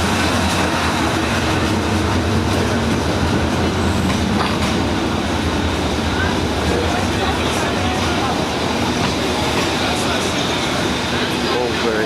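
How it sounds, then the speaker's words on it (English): A train from Hanoi rolls slowly into a station in Vietnam with a loud, continuous rumble and faint clacking of wheels, and people talk over it. "And here comes the train, very slowly."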